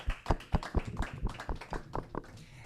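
A small audience at a panel discussion on DeFi tokenisation gives brief, sparse applause, a handful of distinct claps spaced irregularly and fairly quiet, fading out after a couple of seconds.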